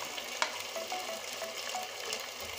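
Ginger and garlic paste hitting oil with browned fried onions for a fish curry, a steady sizzling hiss broken by a sharp spatter pop and small stirring clicks, with no speech.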